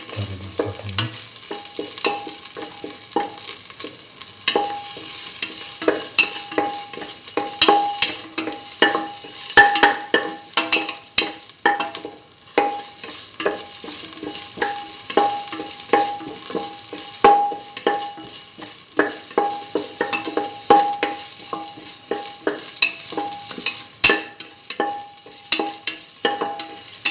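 Corn coconut milk rice sizzles steadily in a hot pan while a utensil stirs and scrapes in frequent close, uneven strokes throughout, loud and continuous with no voices.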